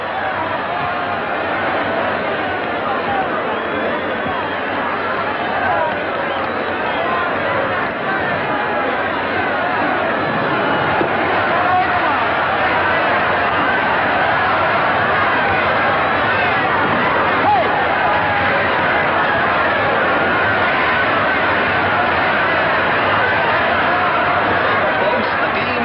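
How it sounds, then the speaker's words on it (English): A baseball crowd roaring wildly in a 1950 stadium as Jackie Robinson stands on second base with the winning run, a dense, steady wall of cheering and babble that stays loud and unbroken throughout. "the crowd here's gone mad"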